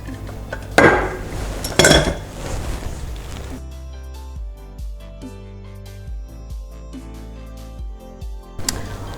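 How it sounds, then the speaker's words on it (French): Warm tiramisu cream being scraped out of a pot into a container, two sharp metallic clanks early, then softer intermittent scrapes and taps of utensil on cookware, close and without talk. "on la débarrasse dans un récipient"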